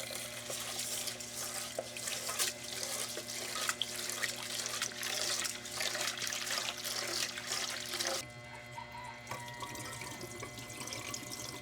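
Running tap water pours steadily into a sink as rice is rinsed in an apartment kitchen, close and continuous, with the flow changing character partway through as the grains are swished. No talking.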